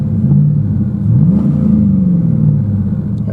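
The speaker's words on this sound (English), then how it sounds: "A little bit of revs." A 2001 GMC Sierra pickup truck engine idles with a deep rumble, then revs up briefly and settles back down, close and loud.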